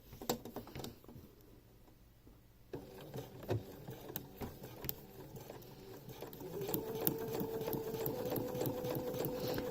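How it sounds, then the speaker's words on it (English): A sewing machine stitches ribbon hole trim along the edge of an embroidered fabric, running at a steady fast rattle that grows busier and louder toward the end, with no talking over it. "I'm going to sew along, just along the edge, by this edge of the embroidery stitch"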